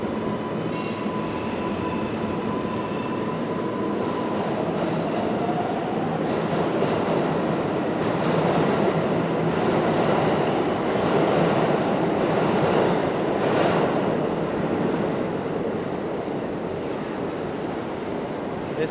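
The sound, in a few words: number 7 subway train at Times Square 42nd Street station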